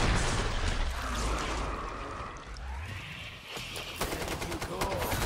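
Automatic AK-12 assault rifle fire in Killing Floor 2, sustained bursts crackling loudly and almost without pause under dense game noise and some voice chatter.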